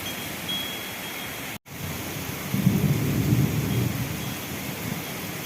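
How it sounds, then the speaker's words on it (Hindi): Heavy rain pouring down steadily outdoors, a dense, loud hiss of rainfall, with a deep rolling rumble of thunder swelling in the second half. "एबे तो वर्षा होचे ना"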